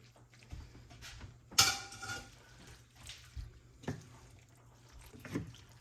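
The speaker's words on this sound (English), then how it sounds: "Keep mixing everything in so everything is well combined" Sausage being stirred into thick fettuccine in a hot pan of Cajun sauce, giving scattered soft scraping and clinking knocks with one sharper clatter, fairly quiet and without speech.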